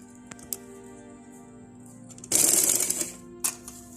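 A sewing machine runs a short burst of stitching on a belted shalwar garment, a dense mechanical whir lasting under a second, then a brief second spurt; faint clicks and handling noises fill the quiet stretches before it.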